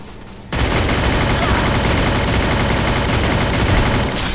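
Sustained automatic gunfire in the mobile battle royale game Free Fire, a dense unbroken burst of rapid shots starting abruptly after a brief quieter moment and continuing loud and close to the end.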